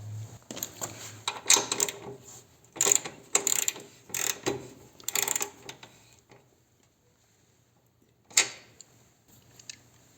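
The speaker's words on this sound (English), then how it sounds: "the first step is to take off this nut here. It's a 9/16" A wrench works loose a 9/16 nut on a Harley-Davidson Touring motorcycle, giving several bursts of close ratcheting clicks over the first six seconds, then a quiet stretch broken by one more short ratchet burst.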